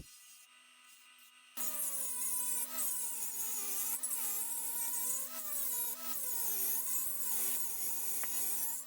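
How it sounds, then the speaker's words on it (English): A steady high whine of a grinder grinding the teeth off a steel saw blade, with wavering pitch as the blade is pressed and shifted, continuous and fairly close. "First I need to grind off the teeth, and then I'll shape it on the grinder."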